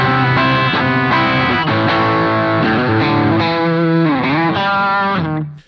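Electric guitar run through a Stylus guitar pedal set to hi-fi mode, playing a short melodic phrase of distinct notes, with a warbling chorus-like wobble and a clear, bright tone, loud and up close before cutting off.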